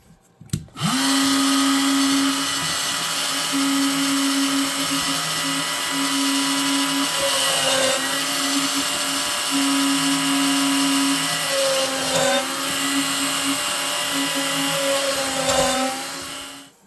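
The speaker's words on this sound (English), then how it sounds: "So here you can see I drilled the holes" A drill runs nearly continuously with a steady high whine, briefly dipping in pitch a few times as it bites, loud and close, with no talking, drilling straight holes in a vintage Camillus knife's handle during rehandling.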